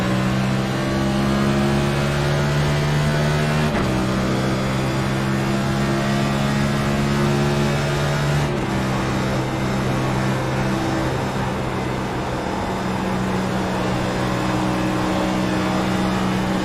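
Race cars in an iRacing sim race at Auto Club Speedway California drone loudly at high revs, a sustained near engine whine that drops in pitch at a couple of shifts, continuous with no talking.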